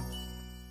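A cartoon bell rings once, a short bright tinkling chime with a sustained tonal ring, quiet and alone.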